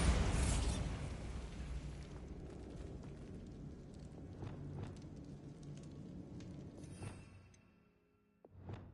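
A Bombarda blasting spell in the Hogwarts Legacy video game goes off as a loud, sudden explosion, then trails into a crackling, fiery rumble that fades over several seconds.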